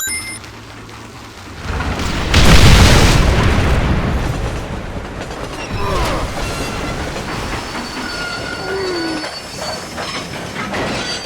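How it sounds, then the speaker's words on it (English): A train in the video game Red Dead Redemption rumbles past with a loud surge of rolling noise, rattling cars and faint wheel squeals, swelling early then settling into a steady clatter. "There's a train leaving Chuparosa soon."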